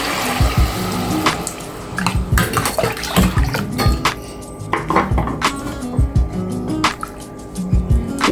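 Tamarind water poured into a pan while making drumstick rasam, with clattering pots, utensils and splashing liquid in a busy, close kitchen.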